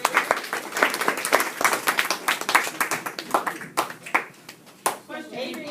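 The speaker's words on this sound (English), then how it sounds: "Round of applause for" Classmates clapping for a student's Genius Hour presentation, a loose scatter of individual claps, fairly close and uneven, tapering off with voices underneath and a speaker talking at the end.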